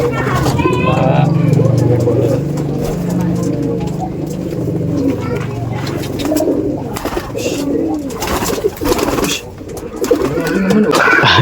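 Pigeons at a Brebes, Central Java pigeon dealer's place coo in low, rolling throaty calls, loud and close through the opening seconds and continuing more softly under nearby men's chatter.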